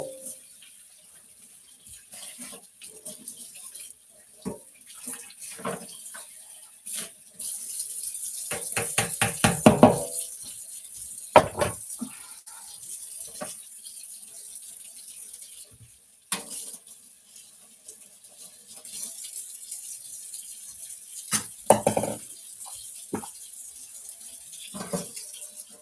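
Water from a kitchen tap running into a sink while dishes are washed, with intermittent splashing, clinks and bursts of flow over about twenty-six seconds, close up and uneven, no talking.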